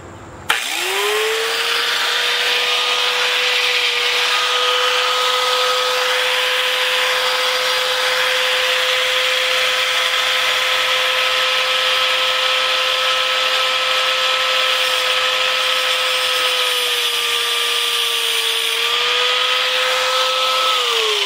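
A Harbor Freight 4.5 inch angle grinder fitted with a thin 1/8 inch cutting wheel spins up and runs steadily with a loud, sustained whine close by, holding pitch for the whole stretch.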